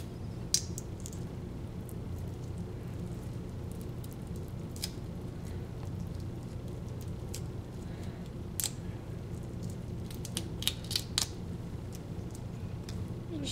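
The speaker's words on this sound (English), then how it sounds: "you have to peel back the shell like this" Shrimp shell peeled off by hand, a close series of irregular small crackles, clicks and wet snaps over a low steady background hum, with no talking.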